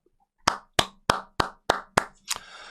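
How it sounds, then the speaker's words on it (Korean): One person claps hands seven times at an even, unhurried pace, close and crisp in an otherwise quiet room, the last clap slightly softer and ringing. "그냥 박수 한번 쳐봤습니다."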